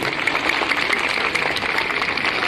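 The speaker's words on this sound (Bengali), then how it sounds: "আমরা সকলে জোরে করতালি দিয়ে অভিনন্দন করব" Students at the opening of a 2024 annual school sports competition clap loudly together in a dense, steady crackle of applause that continues without a break.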